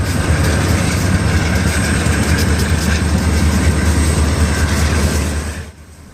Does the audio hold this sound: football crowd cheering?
no